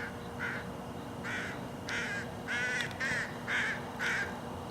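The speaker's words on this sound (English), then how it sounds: "The crows are finally showed up again, and I'm able to get some footage of the crow dive bombing" Crows caw repeatedly while dive-bombing an eagle outdoors, about seven harsh calls in a steady rhythm, moderately distant over a constant broadband background hiss.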